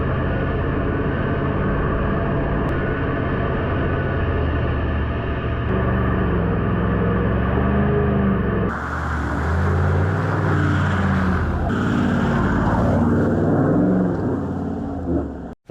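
A car drives along a beach on Fraser Island, its engine rumbling steadily close by with tyre and wind roar, shifting in tone partway through as it keeps moving.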